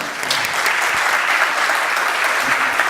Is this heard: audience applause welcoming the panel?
yes